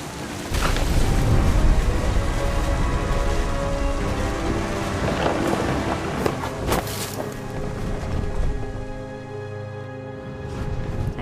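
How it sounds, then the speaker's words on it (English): Heavy rain pours steadily in a What Remains of Edith Finch thunderstorm, with low rumbling thunder close by beneath the constant wash of rainfall; brief louder crackles flare midway, and no one speaks. "Thunder sounded much too close and full of angry power."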